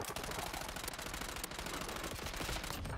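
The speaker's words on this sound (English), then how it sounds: "Under fire! Switching mags!" Dense, continuous automatic gunfire from the Call of Duty Warzone video game, rapid overlapping shots filling the whole stretch at steady high loudness, with no speech over it.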